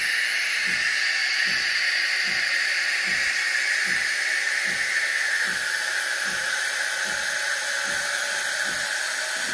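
Saeco Minuto OTC coffee machine steaming hot milk, a steady loud hiss of steam with a regular pulsing thump from the pump underneath, continuous throughout.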